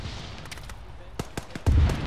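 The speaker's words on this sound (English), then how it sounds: "Gunfire east!" Gunfire in a military video game: a few sharp, separate shots crack out over a faint background, then a heavier, louder burst follows near the end.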